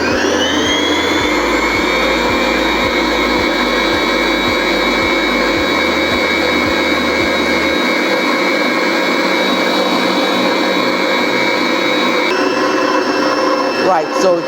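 An electric mixer whips French buttercream flavored with cassata lemon oil, its steady loud motor whine running unbroken, with a slight pitch shift near the end and low thumps early on.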